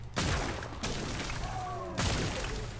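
Rapid bursts of gunfire from the video game Zombotron, dense and continuous with sharp onsets near the start, around 0.8 s and again at 2 s, with no talk.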